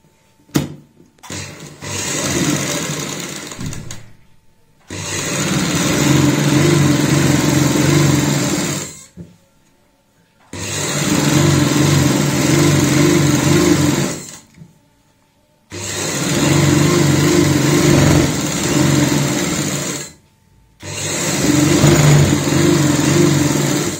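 Electric sewing machine stitching the side seams of a girl's party frock, four long steady whirring runs of several seconds each, separated by brief silent pauses, close and loud.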